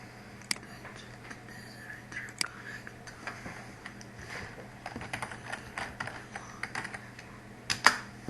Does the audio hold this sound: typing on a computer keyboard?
yes